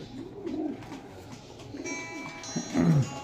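A golden pigeon in Gujranwala gives soft, low cooing calls near at hand, a few throaty coos rising toward the end over a quiet background.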